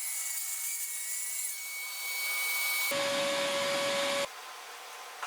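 A circular saw set to a 25-degree bevel cuts through wood. A high whine first rings out on its own, then a loud, rough burst of cutting noise lasts about a second and a half and stops abruptly, leaving the motor winding down.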